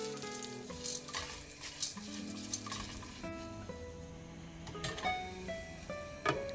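Hot oil heating in a covered wok before popcorn kernels pop, a steady close sizzle with scattered ticks and light crackles, fairly quiet and with no one speaking.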